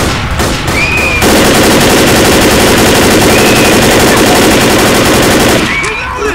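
Sustained automatic gunfire from the video game Left 4 Dead, a loud rapid burst lasting several seconds with a few quieter sounds before and after it.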